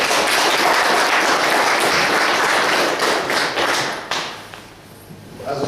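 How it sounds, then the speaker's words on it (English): An audience applauds loudly, a dense wash of clapping that holds steady, then thins and fades toward the end. "round of applause, thank you."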